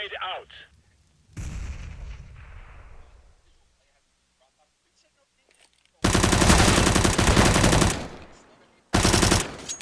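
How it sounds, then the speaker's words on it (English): A grenade goes off in a CS:GO esports match, a booming blast that rumbles and fades. After a quiet stretch, two loud, dense bursts of rapid gunfire follow. "Grenade out."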